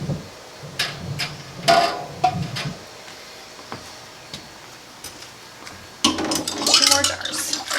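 Glass canning jars for home-canned sloppy joe sauce clink and knock sharply as they are set one by one onto a metal rack, with a splash of water and clatter near the end.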